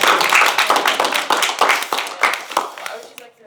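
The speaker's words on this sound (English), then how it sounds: "Is this where we clap?" An audience claps together in a hall, a dense burst of many hands that rises, holds briefly and then thins out toward the end, with voices mixed in.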